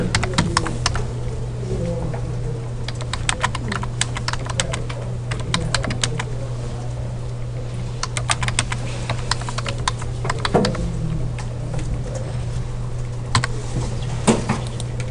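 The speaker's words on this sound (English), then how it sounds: "Then I type in the answer for A." Steady typing on a computer keyboard while entering answers to multiple-choice questions, clicky keystrokes in bursts and runs over a constant low hum, close and moderately loud with no talking.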